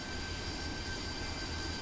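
Jet engine of an AV-8B Harrier in Microsoft Flight Simulator (MSFS) spooling for a slow vertical takeoff, a steady broadband roar with a faint high whine running evenly throughout.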